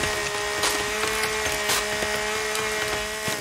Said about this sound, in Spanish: Ni hacha, ni huevos. La motosierra.